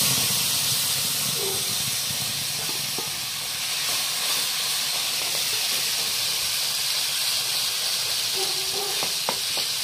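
Ginger, garlic, green chili and onion paste frying in a pan with black cumin and whole cumin seeds, giving a steady loud sizzle and hiss throughout with faint occasional stirring clicks.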